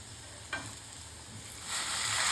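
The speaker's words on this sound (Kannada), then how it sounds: "ಉರಿತಾ ಇದ್ದೀನಿ. ಇದು ಚೆನ್ನಾಗಿ ಉರಿಬೇಕು." Sorrel leaves frying in a hot pan give a steady close sizzle, with a brief stir-like scrape near the start and a louder hiss building toward the end.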